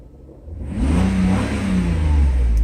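A Mercedes S600 engine revs up sharply from quiet to a loud, sustained roar around 4,000 RPM that holds steady, close and with no talking.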